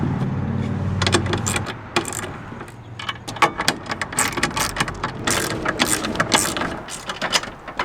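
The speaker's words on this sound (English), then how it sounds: "and now I'm gonna tighten up these bolts." A ratchet tightens the bolts of a swivel seat in a Ford Transit passenger van, close rapid clicking in uneven bursts after a brief low mechanical hum.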